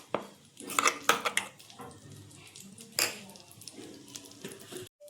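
Spoon clinks and scrapes against a pan while masala paste is sautéed in oil for a hotel-style mushroom dish, with irregular metallic taps and clatter, close and moderately loud, easing into quieter stirring.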